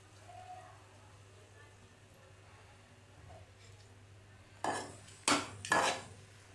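Roasted peanuts and chopped coriander are tipped into rava upma in a pan: after a quiet stretch, three sharp metallic clatters and scrapes ring out close by in quick succession near the end.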